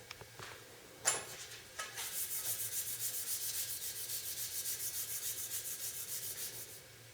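A titanium pendant is rubbed by hand on 400 grit sandpaper, a close, quiet rhythmic scratching of about twenty even back-and-forth strokes after a few light taps, with no voices.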